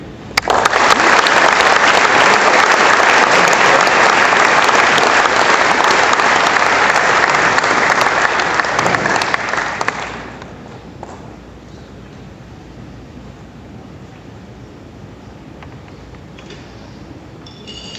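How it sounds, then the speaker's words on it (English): Loud, sustained applause from a large crowd at a sports awards banquet for about ten seconds, then fading to a low room murmur. "Let's have one more round of applause for all four of this year's inductees"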